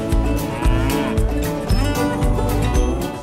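A cow moos loudly several times in a row, long low bellowing calls heard close up with no talk over them.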